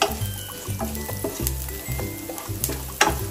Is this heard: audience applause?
no